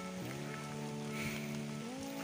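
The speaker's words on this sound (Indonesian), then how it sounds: "Posisi hujan" Steady rain falls at dusk during a harvest of wild giant honeybees (Apis dorsata), a continuous soft hiss with a low humming tone running beneath it throughout.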